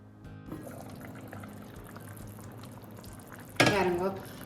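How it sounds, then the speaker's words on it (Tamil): Water is poured into a pot of homegrown vegetables cooking on the stove, a sudden loud splash and gurgle late in the clip after a stretch of quiet bubbling and stirring. "கொஞ்சமாக தண்ணி சேர்க்க போகிறேன்"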